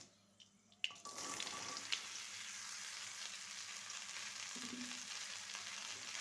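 Cut bottle gourd drops into hot mustard oil with fried mustard seeds and bursts into a loud, steady sizzle after a brief quiet start, then keeps frying continuously with no talking.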